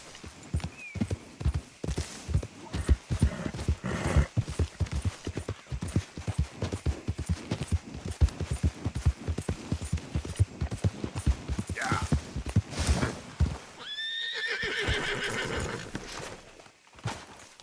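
Horse hooves clip-clop in a steady, fast rhythm for most of the stretch in Red Dead Redemption 2, then a loud, close whinny rings out near the end, with faint game noise around it.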